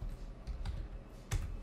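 Computer keyboard keys tapped while entering a command in AutoCAD LT 2020 drafting software, a few soft scattered clicks with one firmer keystroke near the end, close and quiet with no talking.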